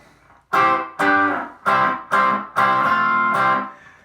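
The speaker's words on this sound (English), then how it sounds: "I have an effect called a Slapback Echo on" Electric guitar played through a slapback echo effect, in open G tuning: five loud strummed chords in a steady rhythm, each ringing with a quick repeating echo, the last one sustained and fading.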